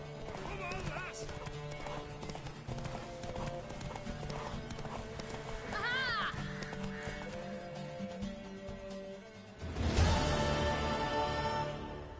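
Horse hooves clip-clopping at speed during a race in The Witcher 3, a steady galloping rhythm with whinnies and game music, under character voices, ending in a louder swell.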